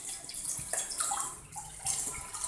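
Tap water runs steadily in a home kitchen, a close hissing stream with small splashing changes as it fills a container, with no talk.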